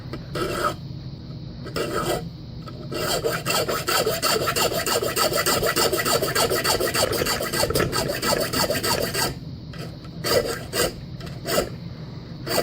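A key blank is worked by hand with a metal file. Steady, close, harsh rasping strokes run almost continuously, with a few short pauses near the start and end.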